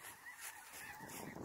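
Geese honk faintly high overhead on a prairie morning, a short burst of distant overlapping calls over soft open-air background.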